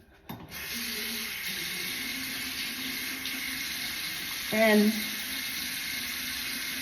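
A cold-water tap running into a sink during a face-washing skincare routine, a constant close hiss of flowing water with a brief splash partway through and a word spoken quietly over it.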